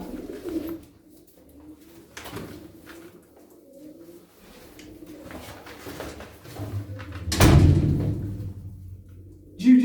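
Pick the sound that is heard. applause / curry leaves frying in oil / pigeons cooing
pigeons cooing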